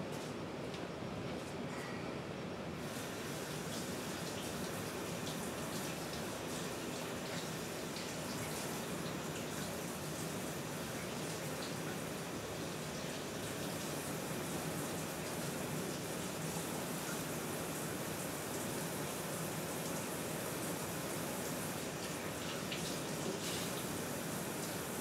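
Capicola meat rinsed outdoors under running water, a continuous broadband gush of flowing water that holds steady and fairly loud for the whole stretch, with no voices.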